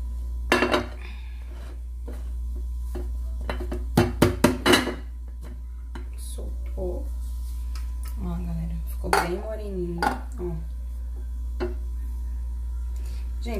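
A warm baked dish made with cream and flour is turned out of its pan, with several sharp metallic clanks and knocks of the pan against a plate, separated by quieter handling and a steady low hum.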